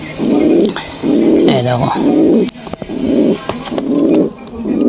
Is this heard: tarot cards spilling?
no